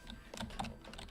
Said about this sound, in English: Fiercely typing, not to die.